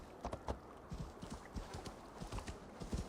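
A horse's hooves clip-clopping at a walk in Assassin's Creed Valhalla, with irregular, fairly close hoofbeats and faint ambient background underneath.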